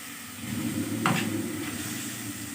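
Cluster beans (guar phali) with garam masala and dry mango khatai powder are stirred in a hot pan, a soft scrape of the spoon rising over a faint steady sizzle, quiet and close.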